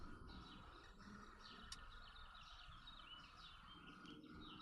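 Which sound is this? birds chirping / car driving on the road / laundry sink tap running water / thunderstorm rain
birds chirping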